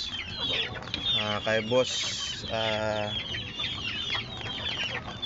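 Several chickens in a small backyard coop cluck and squawk in repeated bursts close by, with a brief spoken phrase mixed in among the calls.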